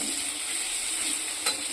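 Onions fry in a pan for a chicken dish, giving a soft, steady sizzle heard close but quiet, with one brief utensil clack near the end and no speech.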